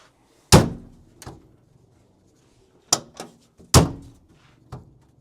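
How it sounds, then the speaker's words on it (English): Aluminum front half door on a Jeep JK Wrangler shutting, heard as a few sharp, close metallic thunks with short rattling tails, spaced apart with quiet between. "So I'll show you how the door shuts."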